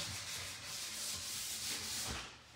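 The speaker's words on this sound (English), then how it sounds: "So I'm just going to give it an extra sand there." A painted cabinet is hand sanded around the hardware ring, giving continuous close rasping strokes in a steady back-and-forth rhythm with no voices.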